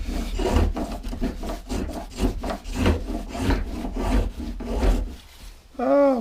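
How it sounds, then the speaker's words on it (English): Spokeshave shaving wood while making a three-legged stool, a rapid series of rasping strokes in steady rhythm, close and fairly loud, with a short voice at the very end. "See, that's what your spoke shave's for."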